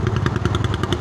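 A Bajaj Dominar 400 motorcycle engine running steadily, a close, fairly loud rapid throb with rhythmic pulsing and no voices.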